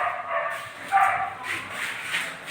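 A dog barks and yips a few times at moderate distance, with short whiny calls rising and falling, mixed with some background voice.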